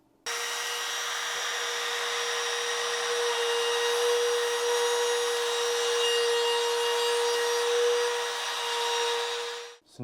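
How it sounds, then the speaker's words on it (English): A handheld router cuts a hole in a wooden board, guided by a routing jig clamped over it. It gives one loud, steady, high whine that runs almost unbroken for about ten seconds, then stops abruptly. "So now that my hole's routed"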